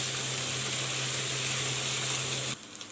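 Fenugreek leaves and onion sauté in a hot pan, giving a steady, close sizzle with a faint hiss that runs evenly for a few seconds, then cuts off abruptly into near quiet.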